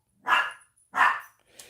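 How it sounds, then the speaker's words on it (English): A Chihuahua indoors gives two sharp close barks followed by a softer third, with silence between. "She's probably just barking at the place she thinks the ball is."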